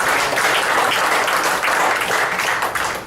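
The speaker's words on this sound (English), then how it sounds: "You can clap for that." A church congregation at a worship service claps steadily for three seconds, a dense and loud patter of many hands with no voices on top.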